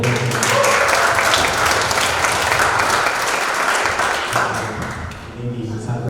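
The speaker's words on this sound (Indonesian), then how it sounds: "Tepuk tangan ya." An audience at a photography talk applauds loudly and continuously, a dense wash of clapping that tapers slightly toward the end.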